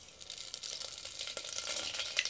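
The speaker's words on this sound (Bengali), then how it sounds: "তেল গরম হয়ে গেছে, দিয়ে দেবো আমি পাঁচফোড়ন" Panch phoron five-spice seeds, mustard and nigella among them, spluttering in hot oil in a pot: a steady crackling sizzle with rapid tiny pops close up, with no talking.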